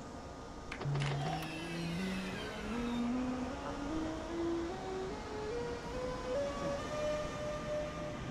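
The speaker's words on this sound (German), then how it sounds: "Ich lasse den Zug jetzt mal an uns vorbeifahren." A train in the Train Works Simulator game runs past on a southern main line, a loud steady rumble with rising wheel and motor tones sweeping upward as it passes close by.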